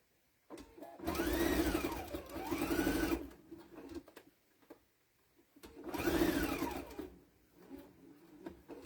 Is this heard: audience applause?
no